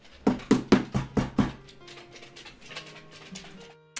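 Bowser the dog lets out a quick run of about six sharp, close barks and yips, then trails off into softer whimpering whines.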